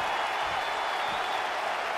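Steady, loud crowd cheering and applause from a WWE 2K20 wrestling game during a Raw match, a continuous roar throughout with no pauses.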